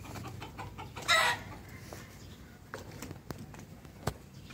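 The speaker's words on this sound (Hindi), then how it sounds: "तो इन मुर्गियों को अब करते हैं बंद" Hens loose outside their coop let out a sharp burst of clucking, followed by scattered softer clucks and calls over a low background murmur.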